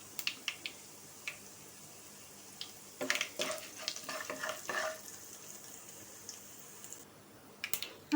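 Cumin seeds, urad dal and dried red chillies fry in hot oil, giving a faint, quiet sizzle with scattered crackles and a few louder bursts of spattering and stirring.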